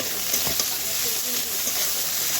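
Potatoes frying in hot oil with onions for a prawn-head curry, a steady broadband sizzle and hiss that holds evenly throughout at close range, with no speech.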